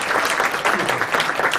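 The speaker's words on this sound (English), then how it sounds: "Give him a round of applause" Sustained audience applause fills the room for an internet entrepreneur called up on stage, a dense, steady wash of many hands clapping at close range with no talk over it.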